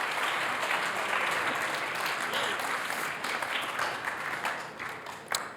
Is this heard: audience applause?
yes